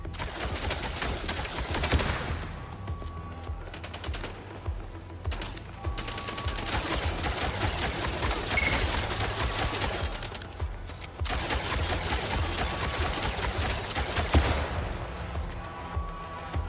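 Sustained gunfire in the video game MindsEye, with dense overlapping bursts and fusillades running continuously at close range, broken by brief lulls, against a busy game soundscape.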